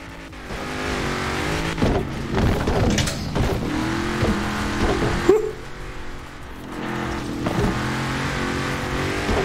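Car engine in Forza Horizon 4 revving and roaring loudly and steadily while driving off-road cross-country between trees, with gear-change dips and tire noise throughout.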